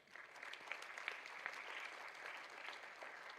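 An audience at a college youth entrepreneurship event claps steadily throughout, heard faint and distant without any talk over it.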